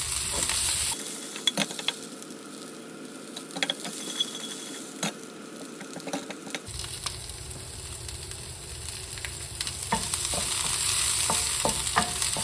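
Onions being stirred and fried in a pan for beef curry, a loud continuous sizzle with rapid scraping and clattering of a utensil against the pan, the frying noise shifting and intensifying partway through.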